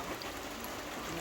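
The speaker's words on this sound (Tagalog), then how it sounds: "Raining." Rain falling at a rural farm house, a faint, steady broadband patter with no distinct drops standing out, heard alone for a brief moment.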